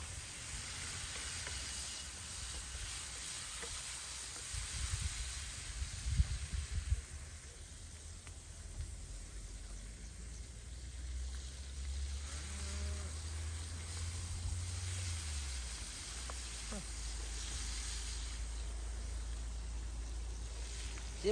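Potatoes fry in a cauldron over an outdoor wood fire, giving a steady, dense sizzle throughout with a low rumble underneath and occasional louder crackles.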